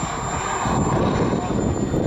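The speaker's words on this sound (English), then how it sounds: "Very pretty aeroplane," A large model aeroplane with a tight, manoeuvrable airframe flies at an RAF Cosford air show, its engine droning steadily and fairly close, heard under a commentator's voice.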